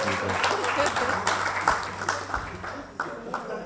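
A comedy club crowd applauds a performer's coach, giving a sustained wash of clapping over nearly four seconds, moderately loud, with voices blended underneath.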